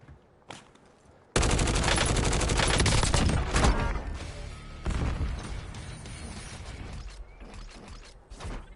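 Heavy gunfire in the Warzone video game strikes the player: a sudden loud onset of dense, rapid shots and impacts that stays intense for several seconds, then thins into scattered bursts and mechanical clatter, with no talk.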